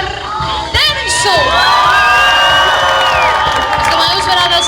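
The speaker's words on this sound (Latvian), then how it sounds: "Dāmas un kungi, aplausu vētra par Denisu!" A crowd applauds and cheers loudly for contestant Denis at a style contest, with shouting, whoops and children's voices rising abruptly and holding at full volume throughout.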